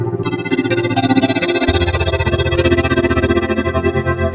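A loud, gritty Yamaha Montage synthesizer drone pulses rapidly while its Super Knob morphs the tone, brightening and thickening as it changes midway through.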